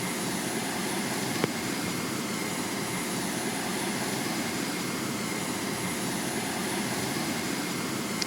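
Cruise missile in flight in a video game, heard as a steady loud jet-like roar that drones on unchanged throughout, with one faint click early on and no talk.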